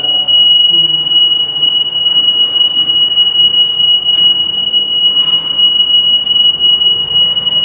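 A steady high-pitched electronic fire alarm tone sounds continuously in a condo unit, with faint room noise and movement beneath it.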